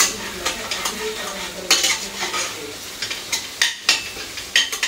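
Chopped vegetable topping for homemade pizza cooking in a pan, with a steady low sizzle under repeated close scraping and stirring clinks of a spoon against the pan, no voices.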